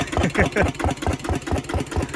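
A walking tractor's engine idles close by, thumping loud and steady through a modified exhaust with rapid, even pulses.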